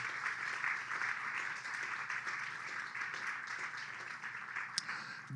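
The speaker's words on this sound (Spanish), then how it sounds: "Un aplauso al Señor." A church congregation applauding together at a sermon, a steady sustained wash of many hands clapping from across the room, fairly even in loudness throughout.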